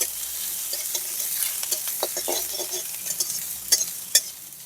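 Chopped onion fries in mustard oil in a wok for a raw jackfruit cutlet, giving a steady close sizzle broken by scraping stirs and a few sharp clinks near the end.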